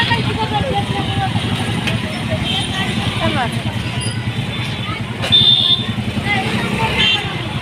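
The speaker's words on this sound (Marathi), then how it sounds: "लई गर्दी इथे या चौकात लई गर्दी असते" Dense traffic at a busy, crowded road intersection: a steady close rumble of car and motorcycle engines with scattered horn toots and a background hubbub of voices throughout.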